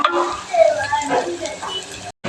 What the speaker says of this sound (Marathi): छान असं परतवून घेणार याला मस्त ना